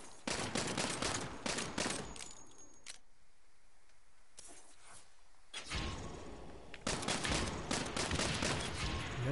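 Gunfire in the video game Saints Row, sharp shots fired in quick bursts with short quiet gaps between volleys, loud and close with no talking.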